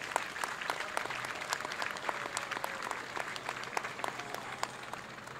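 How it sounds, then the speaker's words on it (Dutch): Warm applause for a military veteran at an outdoor liberation parade, many hands clapping steadily at moderate loudness and spreading evenly through the air for several seconds. "Je mag hem een warm applaus geven."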